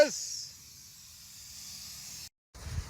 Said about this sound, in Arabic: وبعد ما احط الرز اخليه على نار مرتفعه الين يتستس